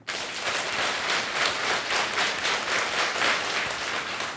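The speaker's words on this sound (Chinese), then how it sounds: "好，你举着，然后现在我们拍12下，" A church congregation at a Sunday Baptist worship service claps in unison, many hands striking together in a brisk, evenly spaced series of about a dozen loud claps, with no talking over them.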